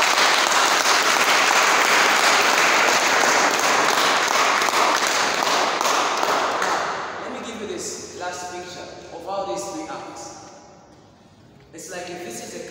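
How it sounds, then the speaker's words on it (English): A church congregation claps for Jesus in loud, dense applause that fills the room for several seconds, then thins into scattered claps while a voice comes through. "I think we can clap for Jesus."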